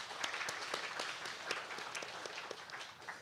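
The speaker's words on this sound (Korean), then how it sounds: "우리 큰 박수로 하나님께 영광 올리겠습니다" Applause from a church congregation during a Wednesday prayer service, a steady wash of many hands clapping at moderate distance, fairly soft and continuous throughout.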